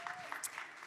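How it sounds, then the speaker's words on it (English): An audience at a women's sports business summit snaps and claps briefly, a short patter of scattered hand sounds under a faint voice. "Snaps and claps to Lauren Carenti"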